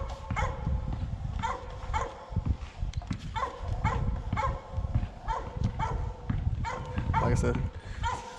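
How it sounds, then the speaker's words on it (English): A dog barks repeatedly in short bursts outdoors near a parked Honda Accord, loud and close, with someone speaking briefly over the barking. "excuse the dumb dog barking"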